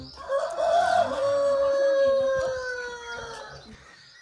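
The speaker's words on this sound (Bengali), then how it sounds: "পরের দিন সকালে ঘুম ভাঙল মোরগ আর পাখির ডাকে।" A rooster crows loudly and close in a Himalayan farming village at dawn, one long drawn-out call, with fainter birds calling in the background.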